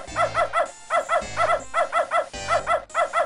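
A dog barks repeatedly in the video game Beneath a Steel Sky, loud and close, in quick bursts of about three yaps separated by short pauses.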